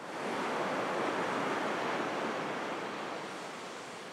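Waves at a Kīlauea shoreline where lava streams enter the sea, a broad continuous roar of surf with wind noise, steady and fairly loud, easing slightly toward the end, no voices.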